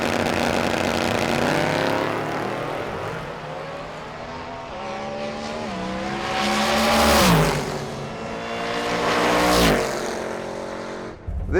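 A 2019 C7 Corvette drag car launches hard on a prepped dragstrip, its engine note climbing loud and close through several shifts, with a few sharp upshift dips and peaks before it pulls away.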